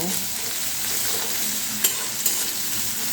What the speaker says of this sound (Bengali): এখন এই পেঁয়াজটা আমি খুব ভালো করে ভেজে নেব